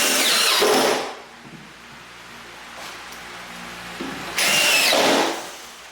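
A power drill drives drywall screws into framing, two loud whirring bursts at close range with a quiet stretch between them.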